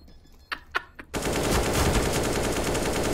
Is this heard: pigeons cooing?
no